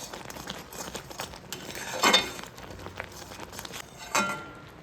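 A utensil scrapes and clinks against a bowl while raw mango pickle is mixed with ground roasted spices and a pinch of salt, giving soft, continuous stirring and two louder metallic knocks, with no voices.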